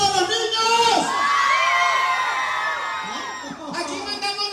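Children shout and cheer together at a Christmas parade in La Libertad, El Salvador: a loud, sustained crowd of high voices with shrieks and whoops, briefly dipping and then surging again.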